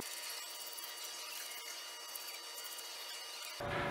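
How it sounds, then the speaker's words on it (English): A file or hand tool scrapes faintly across the edges of a machined metal block at a milling machine, a soft rasping texture that ends in a brief louder thump. "We're going to deburr our block"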